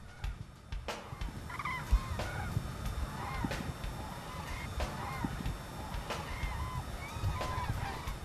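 Hundreds of cranes gather and call around Ķemeri bog, with repeated bugling cries from a flock at moderate distance over a steady outdoor background.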